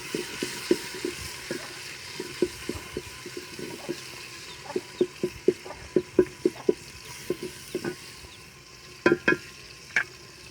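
Green chillies and tomatoes hit hot oil in a frying egg curry, giving a steady sizzle with repeated sharp stirring clicks and scrapes that cluster into quick bursts toward the end.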